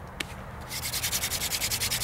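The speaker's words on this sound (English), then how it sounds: "I'm gonna use a strategy here where I warm the kit up by doing a bunch of drilling" A wooden hand drill spun fast with light pressure on a soft-wood friction fire kit gives a steady run of rhythmic, raspy rubbing strokes. They start after a brief quiet moment and a single click, close and fairly loud.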